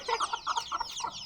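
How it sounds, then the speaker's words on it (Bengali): A naked neck chicken clucks close by in a quick run of short, soft, throaty notes with brief gaps, and no one speaks. "আপনারা দেখুন গলা কাটা মুরগি।"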